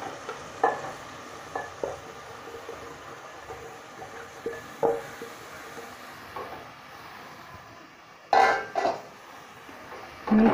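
Chopped cabbage and peas being stirred in a frying pan, with a soft, low sizzle under intermittent scrapes and clatters of the spoon that grow louder toward the end.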